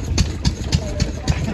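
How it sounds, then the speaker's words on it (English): Robinson patent hot air engine from 1890, restored and still running, gives a steady rhythmic chuffing beat about every quarter second, close and moderately loud with a faint mechanical whine. "Sure, hot air engine."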